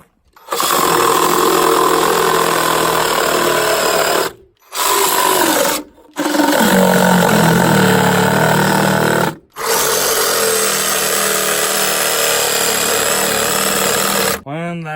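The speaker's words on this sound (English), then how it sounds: "Now, let's just finish it off here with the Sawzall." A Sawzall reciprocating saw makes its final cuts during an off-grid cabin build: loud, sustained buzzing bursts that stop briefly several times and restart, close by.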